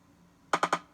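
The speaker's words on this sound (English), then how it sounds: "We also added a rim shot," Three sharp, bright rim shot drum sample hits in quick succession, evenly spaced, followed by a faint fourth tick; no voices.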